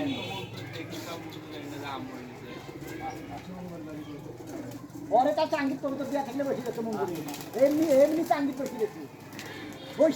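Pigeons gathering at scattered grain near a trap coo in soft, low, rolling calls that swell louder partway through, mixed with murmured human voices in the background.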